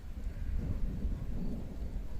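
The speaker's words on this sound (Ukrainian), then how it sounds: "така туча над нами. Гримить." Thunder from a dark storm cloud overhead rolls as a low, continuous rumble that swells and fades, heard outdoors with no talking.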